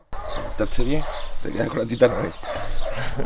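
Dogs bark and whimper at a boarding hotel for dogs and cats, mixed under a person's talking and close to the listener.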